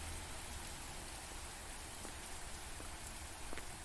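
Steady rain falls in the indie Japanese horror game Instinct: A Poem Without Life, a soft even hiss of drops on surfaces with a few faint taps and no voices.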